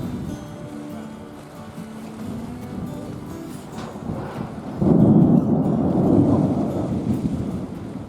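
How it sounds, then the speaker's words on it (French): An evening thunderstorm in summer, a long low rolling rumble of thunder that swells partway through and keeps grumbling over steady rain. "En cette fin de journée, un orage menace et finit par éclater."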